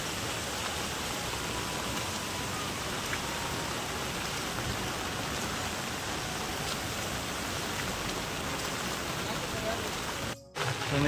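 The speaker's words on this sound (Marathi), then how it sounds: "पाऊस खूप चालू आहे आता, सगळं वाहत आहे." Heavy monsoon rain pours on a road in the Konkan countryside near rice fields, with water running along the road. A dense, constant hiss stays loud throughout and cuts out briefly near the end.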